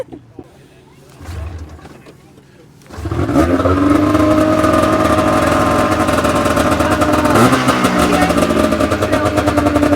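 A snowmobile sled at a mud ride event starts up after quiet background murmur, then its engine holds a loud, steady high rev with a buzzing drone for the rest of the clip.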